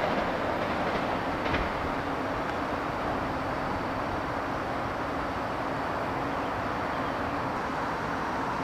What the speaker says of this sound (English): The train you just saw was the 307 from Grand Central Terminal